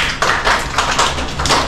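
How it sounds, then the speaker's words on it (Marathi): A brief round of classroom applause for a student, a handful of quick, close claps in an uneven rhythm. "निशांसाठी टाळ्या."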